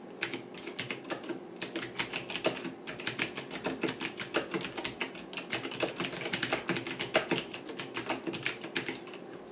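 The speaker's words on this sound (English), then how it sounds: "A typing test." Fast, steady typing on a Sades Damascus RGB aluminum gaming keyboard, a dense run of crisp, close key clicks that continues with only brief pauses and no talking.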